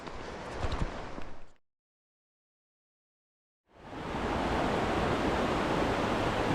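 Stream water flowing beside a zigzagging hiking trail, a steady broadband rush that cuts out completely for about two seconds, then returns louder and continuous.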